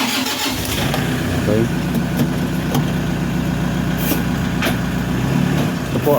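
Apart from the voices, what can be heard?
2013 Toyota Hiace commuter van engine starting and idling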